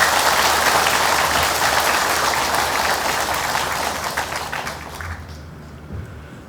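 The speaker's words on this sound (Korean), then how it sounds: "우리 이 주지 스님을 향해서 큰 박수 한번 보내주세요" An audience at a special lecture at Beomeosa temple applauds the head monk, a loud, dense round of clapping that holds steady and then tapers away toward the end.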